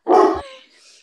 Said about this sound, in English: All right, my dog's barking.